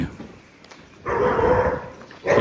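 Farm guard dogs barking, one loud near burst of rough barking lasting over a second, then another starting at the end, after a quieter stretch of low background noise.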